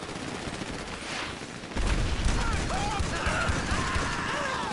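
Sustained gunfire in GTA Online, a rattling burst of shots that grows louder and denser partway through and continues steadily under the game's ambient noise.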